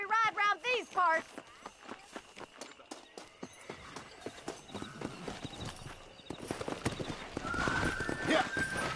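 A horse in Red Dead Redemption whinnies loudly, then its hooves break into a fast, steady clip-clop gallop that carries on to the end, growing busier and louder in the final seconds.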